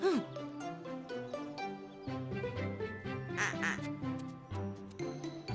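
A cartoon duck quacking in a few short nasal calls over bright background music, with a narrating voice running alongside.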